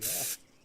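Spray paint hisses from a can in a video game as a red tag is sprayed, two close bursts of hiss separated by a short gap.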